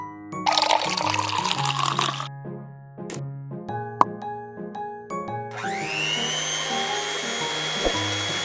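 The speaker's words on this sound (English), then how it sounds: "Water." Water pours into a container for making mini rainbow fruit jelly, with a splashy burst early on and a rising filling gurgle later, set among plinking musical tones.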